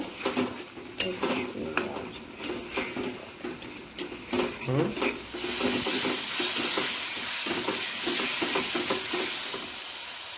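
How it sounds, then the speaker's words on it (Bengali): Spices for a Bengali steamed-egg curry are worked around a pan with a little water: a string of sharp utensil clinks and scrapes, then a dense, steady sizzle swelling up close for the rest. "জল দিয়ে ভালো করে এবারে মশলাগুলোকে সব একসাথে কষিয়ে নেব।"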